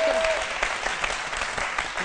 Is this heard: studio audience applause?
yes